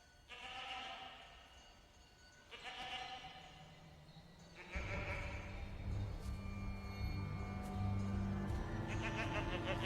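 A goat bleats several times, close and clear, the calls coming in spaced bursts over a buzzing, insect-like background that grows denser toward the end.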